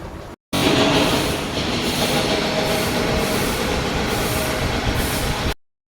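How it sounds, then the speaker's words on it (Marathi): A passenger train starts moving, giving a loud, steady rumble that runs unbroken for about five seconds before cutting off, with no voices. "ट्रेन चालू झाली"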